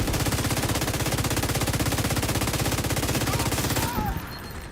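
Rapid automatic gunfire from The Division 2 rattles in a loud, steady stream of fast shots for about four seconds, then stops abruptly into quieter ambience.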